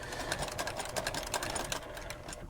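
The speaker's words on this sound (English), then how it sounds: "So I sew off to the corner of the quilt at a 45-degree angle." A sewing machine stitches the binding at the corner of a quilt, a fast close mechanical whir with rapid regular needle beats that stops abruptly at the end, with no talk.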